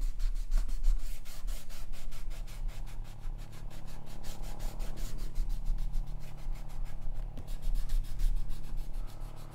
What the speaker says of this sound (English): So now I just get my eraser, get rid of all these construction lines.